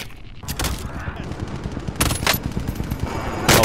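Repeated gunfire from a Famas rifle in the battle royale game Warzone, rapid cracking shots in bursts, with louder blasts near 0.5, 2 and 3.5 seconds over a steady rumble of game sound.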